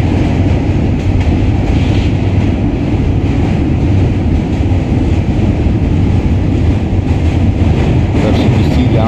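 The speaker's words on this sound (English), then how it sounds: "I didn't give that train permission to get in my way." A train rumbles past continuously and loud at close range while crossing the Manhattan Bridge, a dense steady roar of wheels and rails with faint clicking throughout.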